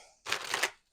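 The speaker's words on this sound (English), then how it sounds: "So I'm just going to give a shuffle here." Tarot cards are shuffled in a short, close, crisp riffling burst of papery flutter lasting about half a second, then silence.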